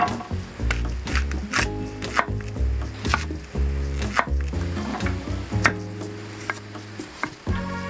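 Candy beet, courgette and onion chopped on a board by hand: a brisk, uneven series of close knife thuds and crisp cuts, with faint background sounds and no talking.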